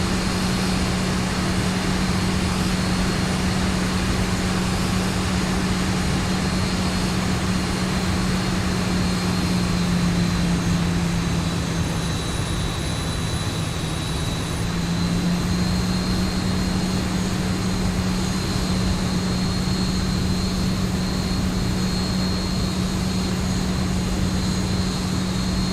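A propeller airplane flying at slow speed, heard from inside as a steady, unbroken engine drone with a constant low hum for the whole stretch and no talking.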